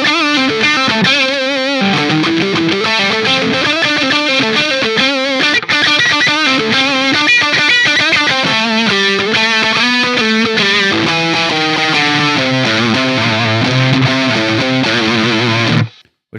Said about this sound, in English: as you can hear, we've got a bit more distortion now.